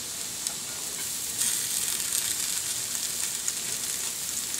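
Potatoes and onions fry in a pan, sending up a steady, close, bright sizzle and crackle with small pops throughout and no talking.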